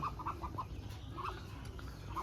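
Native backyard chickens kept alongside ducks give a few faint, short clucking bursts in quick succession, separated by pauses over a low ambient hum.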